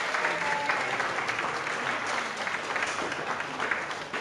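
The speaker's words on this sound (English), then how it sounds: "Okay, a round of applause for everyone" A crowd at an award presentation applauds, dense continuous clapping filling the room at an even level from start to end.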